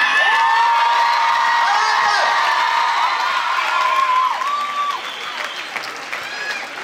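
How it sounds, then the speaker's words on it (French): A packed Grand Rex premiere crowd in Paris bursts into loud applause with shrill cheers and whoops for the film's producer, strongest at the start and gradually thinning toward the end. "je voudrais qu'on applaudisse tous ensemble"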